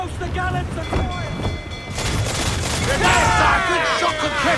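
Naval cannon fire from a pirate ship in Assassin's Creed IV Black Flag, a rolling fusillade of booms and crackling blasts over waves and creaking timber, with shouted crew voices throughout.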